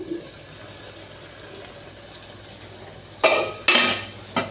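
Two or three clanking metallic knocks as a lid is lifted off a pot of soybean curry cooking on the stove, ringing briefly after a stretch of quiet kitchen background.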